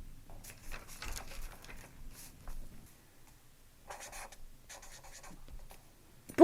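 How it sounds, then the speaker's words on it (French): An indelible felt-tip marker writes on tracing paper in short scratchy bursts of strokes, close and fairly quiet, with a pause in the middle and a sharp knock at the end. "Je vais faire comme vous, je vais écrire le texte sur le papier calque."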